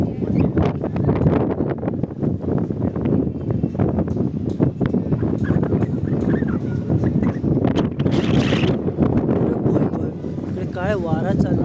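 Strong wind gusting outdoors in Dublin, Ireland, rumbling steadily and buffeting the microphone throughout, beneath a person talking almost continuously.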